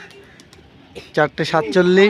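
A racing pigeon that has just landed coos in a few short throaty bursts near the end, after quiet, alongside a spoken voice.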